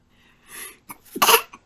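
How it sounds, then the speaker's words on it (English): A single close sneeze: a soft breathy intake, a short catch, then a loud explosive burst with a brief trailing sound. "And I sneezed."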